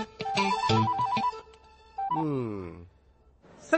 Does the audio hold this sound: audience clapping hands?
no